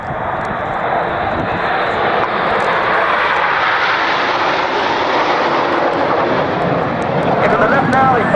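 Avro Lancaster bomber flying past at the Cosford airshow, its piston engines giving a loud, continuous broadband roar that holds steady from start to finish, close and dominant.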